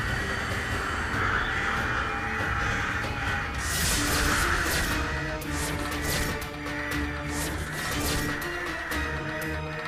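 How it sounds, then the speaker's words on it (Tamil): A flock of crows caws loudly and insistently, many harsh overlapping calls repeating over a constant busy outdoor background throughout. "என்னது மாமா இது இப்படி கத்துனுக்குது எல்லா காக்காவும்?"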